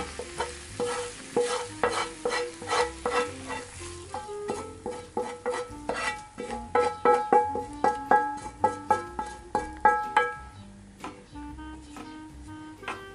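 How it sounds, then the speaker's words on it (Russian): Close stirring of fried zucchini in a pot: repeated scraping and clacking strokes over a soft sizzle, in an uneven rhythm without talk. "Перемешиваем это все"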